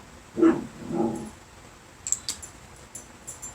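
A dog gives two short barks fairly close by indoors, followed by faint clicks and taps.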